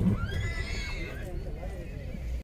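A seven-year-old Gulzar line Belarus horse, 67 in height, at a horse market in Ganganagar lets out a clear, loud whinny. It starts high and slides down, set against outdoor rumble and background voices.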